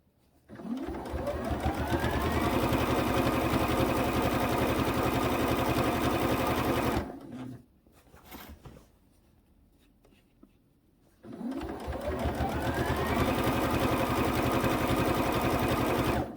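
Sewing machine stitching binding onto a quilt: close, rapid, even whirring in two long runs separated by a quiet pause of several seconds, each run starting with a quick spin-up.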